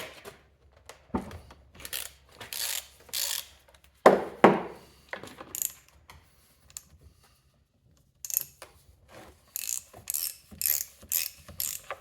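An old Stihl chainsaw has its chain taken off, heard as close, intermittent ratcheting clicks and light metallic rattles with quiet gaps between the bursts.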